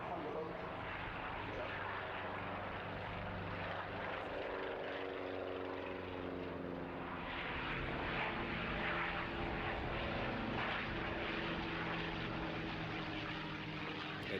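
P-47 Thunderbolt warbird fighters in a flying display pass overhead with a droning radial-engine propeller growl, faint at first then swelling louder midway, with a commentator speaking over the engine noise.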